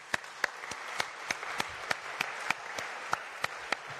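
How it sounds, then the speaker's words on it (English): Crowd applause at the 4th European Youth Convention in Valletta, Malta: a steady, fairly distant wash of clapping with a few sharp, regular claps standing out close by, and no talk over it. "Another big round of applause for all of them"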